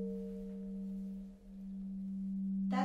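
A gong held still and struck with a mallet rings with a long, steady metallic hum that sustains evenly, ending with a brief rustle or knock.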